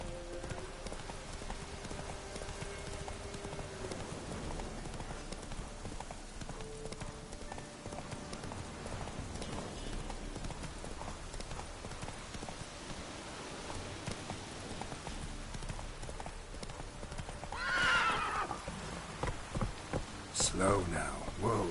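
Roach, a horse in Witcher 3, gallops with steady rapid hoofbeats over rain-like ambience, ending in a sharp neigh and whinny near the close, with a voice speaking.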